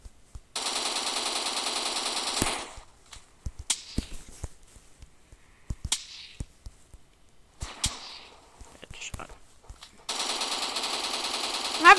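Rapid bursts of automatic machine gun fire in a shooter video game open and close the stretch, with scattered single cracks and quieter thuds in the lull between the two sustained volleys.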